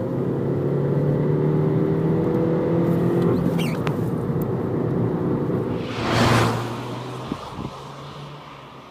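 A 2015 Skoda Fabia TSI drives along the road, its steady low engine and tyre rumble holding throughout with a brief louder whoosh partway through.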